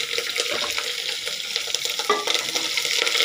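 Cumin seeds, green chillies and curry leaves crackle and hiss as they are stir-fried in a pan for a Tamil foxtail millet tomato rice, with a steady close sizzle and occasional scraping of the spoon.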